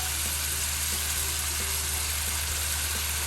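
Spices with salt, chili powder and turmeric fry in oil for a prawn curry with pumpkin vadi, giving a close, steady, even sizzle that hisses throughout without pause and without any voices.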